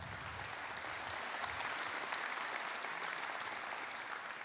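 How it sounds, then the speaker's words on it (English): An auditorium crowd at a DrupalCon wrap-up ceremony claps for the mentoring team, a steady wash of applause from many hands, even and sustained across the whole stretch with no speech. "So a round of applause for them."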